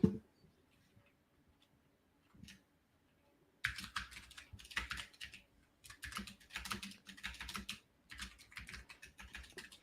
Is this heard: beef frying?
no